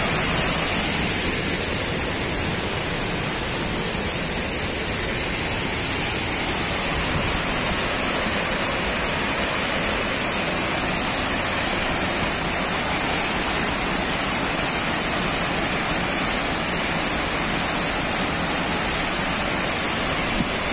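Hang Dơi waterfall in primeval forest at Kbang, Gia Lai, roars as a loud, steady, broadband rush of falling water that stays constant and close throughout, with no talk.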